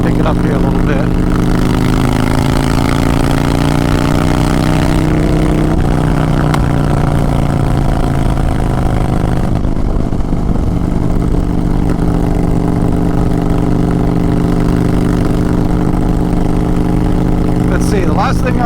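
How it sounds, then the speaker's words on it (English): Large V-twin engine of a 2022 Honda Fury motorcycle on a demo ride, a steady loud low rumble that rises gradually in pitch as it pulls harder, with a rider talking over it throughout. "This giant V-twin engine."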